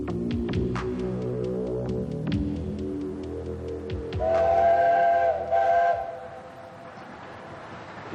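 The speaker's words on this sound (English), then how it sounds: "Ravenglass also has one of the most picturesque little steam trains, threading its way up into the hills from the seaside village." Ravenglass miniature steam train in hill country near the seaside: soft chuffing beats and clanks, then a clear sustained whistle of about two seconds that breaks briefly and sounds again, heard fairly close and alone.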